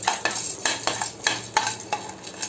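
Curry leaves and roasted gram are stirred and tossed in a pan for chivda, with rhythmic scraping strokes of a spoon and a light sizzle, close and clear without talking.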